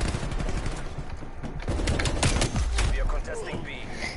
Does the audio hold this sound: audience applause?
no